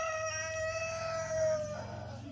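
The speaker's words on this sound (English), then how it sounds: "Go see the chicken." Chicken at a farm visit, giving a sustained tonal crow-like call with faint background noise and no talk.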